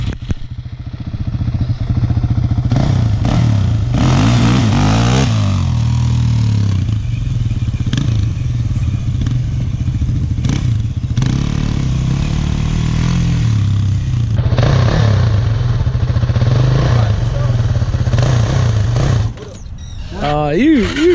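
A motorcycle engine revving during wheelie practice, loud and close, holding a steady drone with rising and falling revs and some clatter, under a voice that talks throughout, before the engine drops off near the end.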